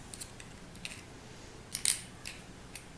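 An X-Acto blade scrapes and snips hair wound around an office chair wheel axle, producing faint, sparse clicks and short cutting scratches close by, with one louder cluster partway through.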